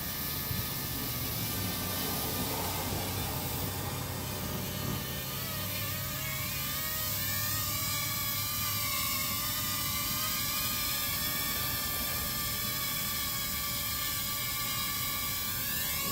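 A Ryze Tello drone hovers close by and descends to land, its high rotor whine steady and loud throughout, with wavering pitch changes as it manoeuvres down.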